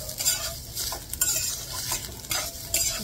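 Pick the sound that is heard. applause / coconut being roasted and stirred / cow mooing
coconut being roasted and stirred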